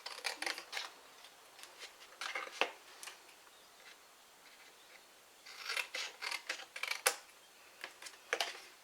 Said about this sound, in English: cut up to the second score line, cut this piece off